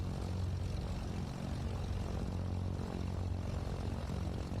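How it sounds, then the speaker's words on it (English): Steady, droning piston engine of a MilViz 310R twin-engine aircraft running in Microsoft Flight Simulator, a continuous low hum with propeller throb holding even throughout. "we've got the engine started, and it's sounding really nice"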